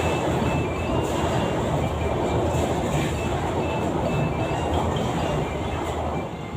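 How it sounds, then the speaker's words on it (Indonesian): A train rumbles past close by in a continuous heavy roar with rattling wheels on the rails and faint high squeals, loud and steady until it fades slightly at the end. "Jangan lupa kereta api lewat"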